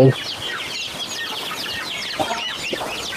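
Turkeys and chickens on a farm cluck and chatter continuously at close to moderate range, a busy overlapping flock with faint background noise and no clear talk.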